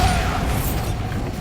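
Bombarda blasting spell in Hogwarts Legacy bursts with a heavy, rumbling boom that rolls off into a low, crumbling decay, close and loud over a short span.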